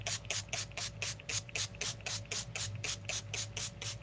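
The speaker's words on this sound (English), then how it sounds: "So first thing I'm gonna do is spray some water." Water is pumped from a spray bottle onto paper in an altered-book mixed-media project: rapid, evenly spaced hissing bursts, around fifteen in four seconds, close and fairly loud over a low steady hum.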